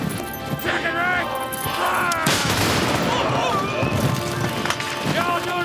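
Musket volleys fired by ranks of a line regiment in a Napoleonic-era battle scene, loud crackling bursts amid shouted commands, running feet and battle noise, with orders called over the firing.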